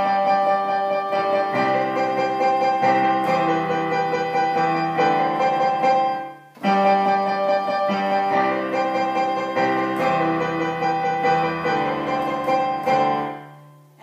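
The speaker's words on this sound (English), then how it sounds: "So the piano part would sound like this." Sustained piano chords from a song ring out in a repeating progression, loud and close, with a brief pause midway before the pattern resumes and fades at the end.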